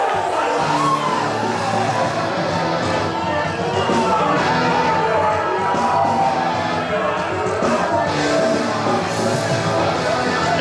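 Indie pro wrestling crowd at Prairie Pro Wrestling Revolution cheering as a wrestler in yellow and red comes out to the ring, a loud, sustained roar of cheers, yells and whoops filling the hall.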